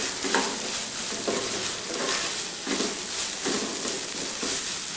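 Prawns roasting in a pan while being stirred, a continuous sizzle with rhythmic scraping strokes of a spoon roughly once a second, close and steady.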